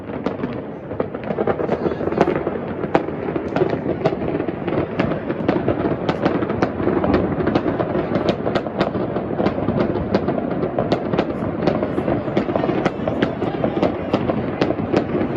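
New Year's 2023 fireworks over Catania crackle and boom continuously, with dense overlapping bursts and sharp cracks for the whole stretch, loud and fairly close, while voices occasionally call out underneath.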